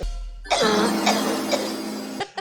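A voice imitates a cough, one drawn-out, rasping hack with a couple of short bursts, loud and close.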